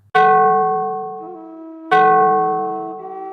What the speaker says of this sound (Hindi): सुबह गांव के प्राथमिक विद्यालय की घंटी बजी।